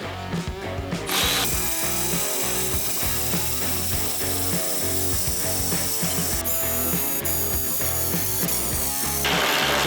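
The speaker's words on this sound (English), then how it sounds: "Let's see if we can drill some holes in the side of this." A power drill whines and grinds in bursts against metal, with a rapid rattling, ratchet-like chatter through most of the clip.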